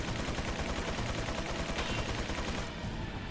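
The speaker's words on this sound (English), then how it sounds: "He's giving me covering fire." An allied soldier's covering fire in Resident Evil 4 rattles as dense, continuous automatic gunfire, loud and unbroken for a few seconds before cutting off abruptly near the end, with no voices over it.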